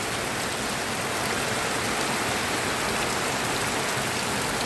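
Heavy storm rain pouring over open rice fields, a dense continuous hiss at steady loudness with no voices.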